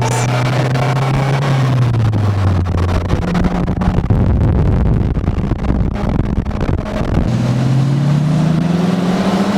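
Polaris Slingshot three-wheeler on a short drive to the grocery store, loud engine close by, revs rising and falling through gear changes with rushing road and wind noise.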